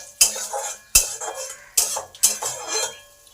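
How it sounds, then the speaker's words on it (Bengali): A spoon scrapes and clinks against a pan as white sesame seeds are stirred with fried green chillies, four sharp metallic strokes spaced evenly, each followed by a soft rattle, with no talking. "এবার এই তিলটাকেও কয়েক সেকেন্ড ভেজে নেব।"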